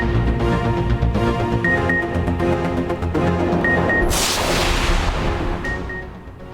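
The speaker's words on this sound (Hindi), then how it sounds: "आतिशबाजी का भी शानदार मुजाहिरा" Repeated booming bangs of a fireworks display at a celebration with performances, over a steady backdrop of music and noise, with a bright crackling burst midway.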